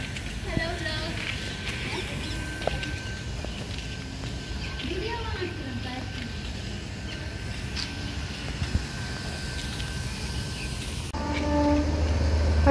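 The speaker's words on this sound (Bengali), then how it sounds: "ওই যে ট্রেনের আওয়াজ শোনা যাচ্ছে" A train passes near a hostel rooftop, its distant rumble and rattling swelling toward the end beneath a person talking.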